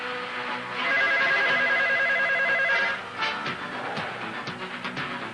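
A telephone rings with a steady electronic trill that holds for about two seconds, followed by quieter rustling and room sounds.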